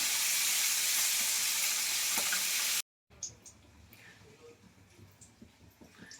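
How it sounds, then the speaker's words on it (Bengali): Eggplant (brinjal) slices fry in hot oil in a kadai with a loud, steady broadband sizzle that cuts off abruptly, followed by quieter scattered crackles and faint background noise. "আর দিকে বেগুন ভাজা হচ্ছে।"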